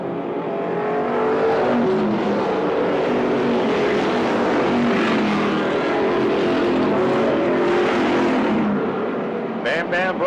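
Stock cars race around an oval track late in an event with two laps to go, a continuous loud engine roar filling the scene while an announcer talks over it.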